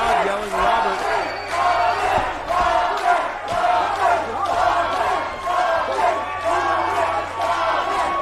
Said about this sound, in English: The crowd yelling Robert.